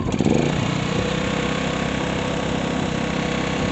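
A small Gentrax petrol generator catches and runs, its engine holding a steady, loud, buzzing drone from the start to the end with no voices.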